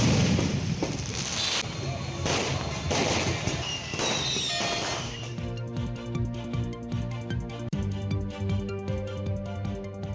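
Fireworks go off at a temple festival procession as a ceremonial pole is carried to the Amaravathi River. A dense run of loud bangs and crackling bursts lasts about five seconds, then gives way to music.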